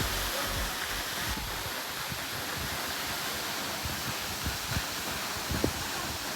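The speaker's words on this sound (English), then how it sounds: "Incredibly beautiful waterfall." A waterfall pouring into the ocean on Jeju Island makes a steady, broad rushing roar that never lets up, heard from nearby, with faint thumps and rustles beneath it and no talking.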